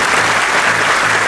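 Loud, dense applause from a large seated crowd of traders at a seminar event, close and continuous across the short stretch.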